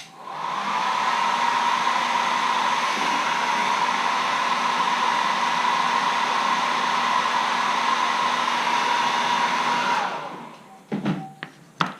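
A hair dryer blows steadily and loudly to dry paint on a wood carving of a caricature letter opener, running for about ten seconds before switching off, followed by a few soft handling clicks.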